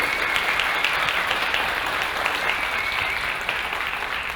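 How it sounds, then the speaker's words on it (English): Audience applause at the Dodge Roadkill Nights 2024 grudge match presentation, a steady, dense wash of many hands clapping that holds evenly for several seconds with a faint high whistle threaded through it. "Give them a nice round of applause"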